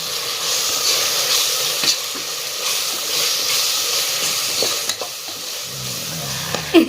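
Egg biryani frying in a pan as red chilli powder and spices are stirred in, a steady close sizzle and hiss with scraping stir strokes throughout and a louder clatter near the end, no voices.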